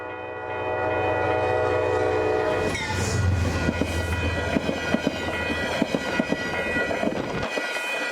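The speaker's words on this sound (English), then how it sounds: "MNCR 8834 wraps the corner with Metro North 203 taking the lead." A Metro-North commuter train led by locomotive 203 rounds a corner and passes close by at Manitou, New York, sounding a loud sustained horn before rumbling past with clicking wheels and rail clatter that cuts off abruptly near the end.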